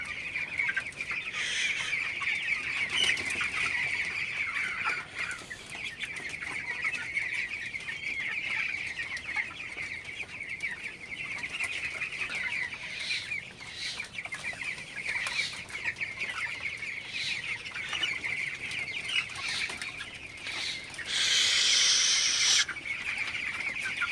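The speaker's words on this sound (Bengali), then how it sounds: "দেখতে পাচ্ছেন মুরগিগুলো কি পরিষ্কার এবং কি সুন্দর আছে ভালো আছে" Broiler chickens in a poultry shed cluck and chatter continuously, a dense, steady flock murmur close by, with a few brighter peeps and squawks rising near the end.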